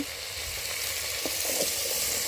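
Bitter gourd and potatoes with their skins on fry in hot oil with a dense, close, continuous sizzle. Faint stirring clicks sound through the hiss.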